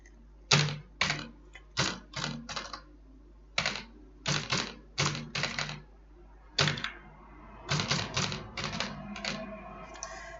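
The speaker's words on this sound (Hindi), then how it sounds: "ऐसी सबकी सैलरी टाइप कर देते हैं" Bursts of typing on a computer keyboard while entering salary figures into an Excel spreadsheet, fast clicky keystroke runs separated by short pauses, close and clear with no talking.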